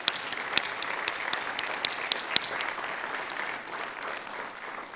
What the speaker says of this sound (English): give our Board of Trustees a round of applause as a token of thanks for their support